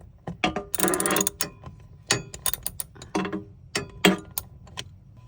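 A 7mm socket wrench ratchets on a screw while fitting a swivel to a van seat: short bursts of close, metallic clicking separated by pauses, with one longer burst near the start and no talking.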